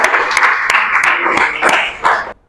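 A loud burst of applause from a group of students in a classroom, with scattered sharp claps standing out, lasting a couple of seconds before stopping.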